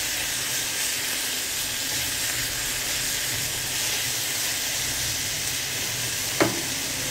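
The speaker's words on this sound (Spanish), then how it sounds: "esperamos un ratito que acitrone todos los ingredientes" Panela cheese and mushroom stew sautés in a pan with a steady, even sizzle and hiss, close and continuous, broken once near the end by a brief utensil clink.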